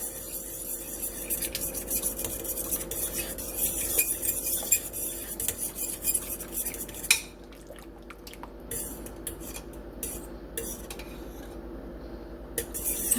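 A utensil stirs cornstarch into ranch chicken in a crockpot, giving close scraping, clinking and wet squishing sounds that run fairly steadily before thinning into scattered clinks, with no talking.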